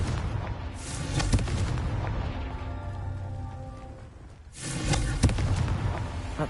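Confringo blasting spell going off in Hogwarts Legacy, two heavy booming explosions separated by a lull of low rumbling, each blast sharp and loud with a crackling tail.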